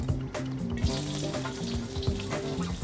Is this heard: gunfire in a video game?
no